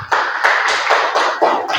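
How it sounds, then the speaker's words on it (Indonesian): Classroom students giving a round of applause to a classmate, a dense burst of hand clapping with rhythmic pulses, close and lively, lasting about two seconds with no voices. "Kita beri tepuk tangan kepada Mila"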